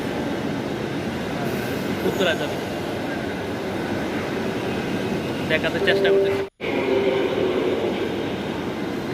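A Dhaka metro rail train running, a steady loud rumble and hum of the moving carriage with faint squeals and a brief drop-out, while a passenger talks over it.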